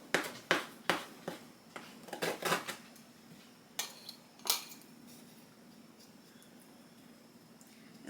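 A knife chops avocado and cilantro for homemade guacamole on a board, giving a quick run of sharp close taps, a pause, a few more scattered chops, and then quiet. Nobody talks.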